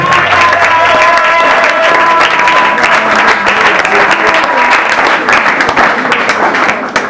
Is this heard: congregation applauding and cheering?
yes